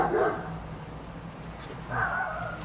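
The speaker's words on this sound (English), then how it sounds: "Investigators with search dogs could be heard on the property during the interview" Search dogs barking on a residential property in Colorado, two bursts of moderately distant barks with a quieter stretch between, over faint outdoor background noise.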